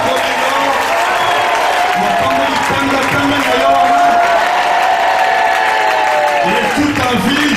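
A church congregation roars with loud, sustained cheering and applause, voices shouting and whooping over continuous clapping that holds at full volume throughout.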